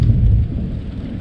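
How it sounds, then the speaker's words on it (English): Thunder from passing thunderstorms near a coastal launch viewing area rolls as a loud, deep rumble that slowly fades over about a second. "The last of these thunderstorms are going to roll through here, and I'm about to take cover."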